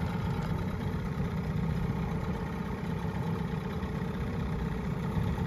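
A Johnson 6 HP outboard motor runs steadily on a small boat at Choctaw County Lake. Its low, even, droning hum continues without break, close by and without voices.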